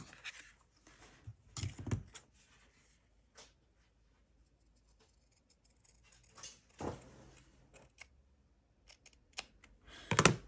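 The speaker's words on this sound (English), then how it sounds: "So I'm going to cut it here." Scissors cut paper or fabric while making ephemera with snap buttons, a few sharp close snips in scattered bursts separated by quiet handling rustles.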